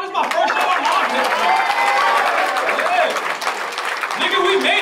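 Comedy club crowd clapping and cheering near the stage at the Funny Bone, loud and dense, with voices and whoops mixed into the applause.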